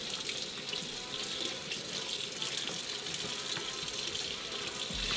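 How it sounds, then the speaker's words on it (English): Tap water runs steadily into a kitchen sink while vegetable stalks are rinsed during green juice preparation, a continuous close splashing gush with no speech. "That way I can give it a good rinse before I soak."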